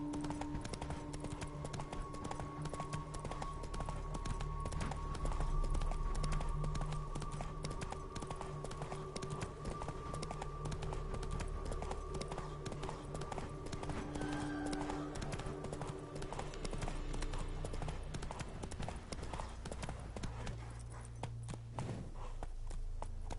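Roach, a horse in a video game, gallops with a rapid, steady clip-clop of hooves, close and continuous, over a layered game soundscape with background music.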